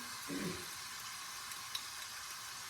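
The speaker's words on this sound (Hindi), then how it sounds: "दही के साथ मसाले को भून रही हूँ।" Spices fry with yogurt in a pan for prawn pulao, a soft, continuous close sizzle with a brief low stir at the start and one small tick later.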